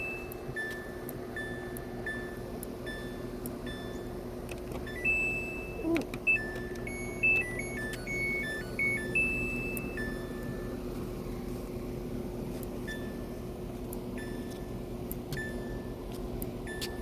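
A washing machine's control panel beeps as the spin speed is set to 400, giving a scattered series of short electronic tones over a steady motor hum and background noise.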